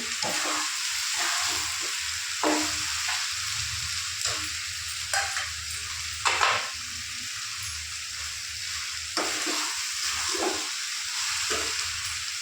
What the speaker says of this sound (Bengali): গুগলি ভাজাটা এর মধ্যে দিয়ে একটু নাড়াচাড়া করে জল দিয়ে দেবো